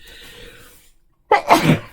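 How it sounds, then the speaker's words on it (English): A single loud, close sneeze bursts out with a sharp intake and explosive release after a brief pause following a quiet breathy moment. "I think I have to sneeze."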